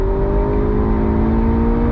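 A Ferrari GTC4 Lusso T pulls hard in second gear under full throttle, its engine note a steady, loud, rising drone with strong low rumble and clear harmonics, heard close and without voices.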